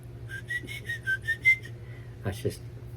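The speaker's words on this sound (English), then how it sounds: "I found that I could whistle through my teeth" A person whistles through their teeth, a string of about seven short, bright rising notes carrying a melody, followed by a brief breathy sound near the end.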